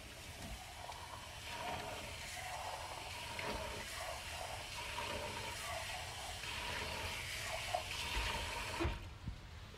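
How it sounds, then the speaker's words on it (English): Water from a kitchen tap runs steadily over a 15-ounce can of black beans being drained and rinsed, a continuous close hiss with small splashes and no talking. "So just going to drain and rinse my black beans, 1 can, 15-ounce can."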